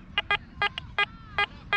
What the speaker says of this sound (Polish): Dźwięk jest ustawiony na 5 tonów. Żelazo pokazuje tonem niskim, pozostałe przedmioty tonem wysokim.